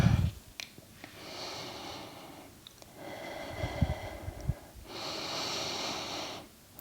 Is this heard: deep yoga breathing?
yes